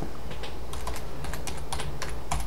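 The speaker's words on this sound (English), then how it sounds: "and I type my password" Computer keyboard keys clack in a quick, uneven burst as a password is typed on a desktop PC built on a Z87X-UD5H motherboard, close up and alone against a low steady hum.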